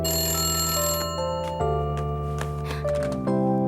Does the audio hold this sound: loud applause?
no